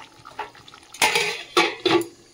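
A metal lid is set onto a bubbling pot of meat curry on a gas stove, three quick clanks and scrapes after soft faint kitchen rustle.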